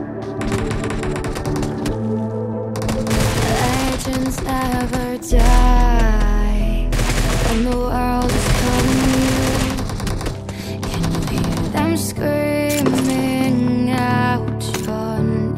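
Rapid bursts of gunfire from a team deathmatch video game shooter, dense and loud over a continuous musical backing, with sharp staccato volleys clustered in short runs throughout.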